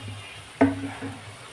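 Fried fish pieces are dropped into a cooking pan, giving one sharp sizzling burst amid soft background frying and stirring noise.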